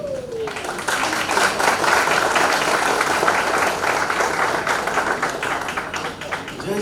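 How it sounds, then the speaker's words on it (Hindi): Audience applause at a book launch event, a dense, sustained burst of many hands clapping in a hall for several seconds, fairly loud and even. "सिर्फ तालियों से पता लग सकता है।"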